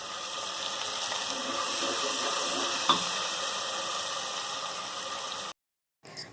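Tomatoes and spices fry in a pan with a steady, close hiss that holds evenly, then cuts off abruptly near the end.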